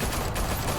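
Rapid gunfire crackles in a Batman video game set in Gotham, a dense fusillade of shots packed into under a second, loud and close with no pauses.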